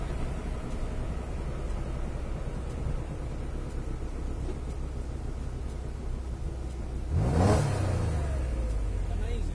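A 45-year-old Porsche's engine running steadily at the Nürburgring, a low continuous rumble heard from inside the car, rising briefly near the end as a short surge passes close by, with a brief spoken exclamation.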